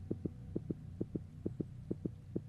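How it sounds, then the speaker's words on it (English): A synthetic heartbeat thumps steadily in paired lub-dub beats, about five pairs, low and muffled over a constant faint hum, with no voices. "And your heartbeat quickens."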